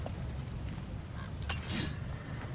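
A raven in God of War Ragnarok gives a few brief, harsh croaking calls, faint and short, over a low ambient game rumble.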